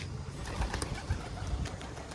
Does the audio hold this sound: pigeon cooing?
yes